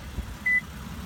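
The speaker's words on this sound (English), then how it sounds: "This beeps a lot." A single short electronic beep from a 2014 Toyota Avalon XLE Touring, a clean tone over a low engine hum.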